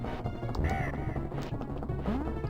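A cartoonish bird squawks a few times in a Donkey Kong Country factory minecart level on the SNES, over busy game music and effects.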